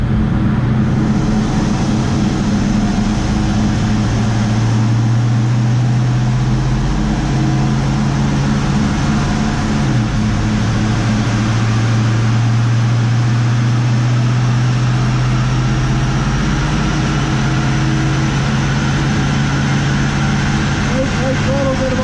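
A '71 Mustang with a 351 Cleveland V8 and Edelbrock carburetor runs loud and close, its engine drone rising and holding at part throttle in long sustained pulls, with a person talking over it.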